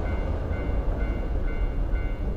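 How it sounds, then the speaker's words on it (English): A train passes close by in the video game Tsugu No Hi at a railroad crossing, a steady heavy rumbling roar filling the whole moment without pause. "That train sounds so close."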